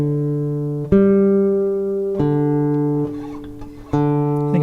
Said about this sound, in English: I'm going to check my tuning, because my tuning sounds weird